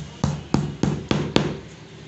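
Five sharp, evenly spaced hammer blows drive a nail into a board for home bookbinding, each strike ringing briefly, close and loud with no talk over them.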